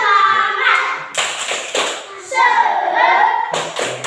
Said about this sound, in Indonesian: sekarang coba tepuk semangat